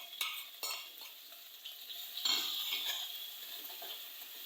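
Crushed ginger, garlic and chili tossed into hot oil with cumin in a pan, stirred with a metal spoon, giving light sizzling and repeated close scraping and tapping against the pan.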